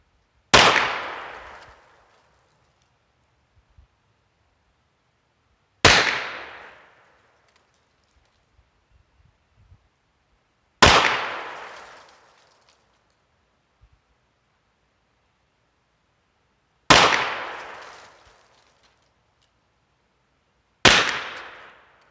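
Five loud, sharp gunshots from a Ruger Wrangler birdshead revolver firing Auto Match ammunition, spaced about five seconds apart, each with a short ringing decay and quiet gaps between.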